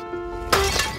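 Glass is struck and breaks in a sudden bright crash that follows a faint tonal hum, with the shattering spreading and tinkling briefly before trailing off.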